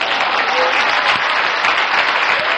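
A church congregation claps at a sermon. The applause is steady, dense and loud, with no break and no voices standing out.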